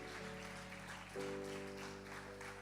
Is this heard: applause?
yes